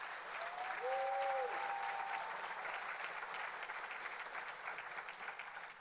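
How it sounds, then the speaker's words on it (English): Faint, steady applause from an audience at a State of the City 2023 address, recognising a staff member, heard distant and even throughout with a few thin tonal squeaks over it. "You deserve a round of applause"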